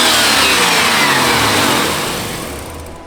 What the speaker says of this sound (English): Listen to it from the front with the exhaust leak.